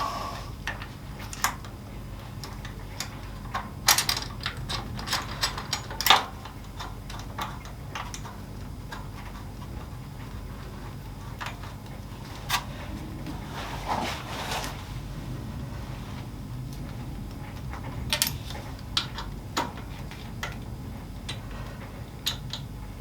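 Ratchet tightening radiator guard bolts on a 2021 Harley-Davidson Sport Glide, a long run of quick clicking ticks over a low steady background hum, close and fairly faint, with no talking.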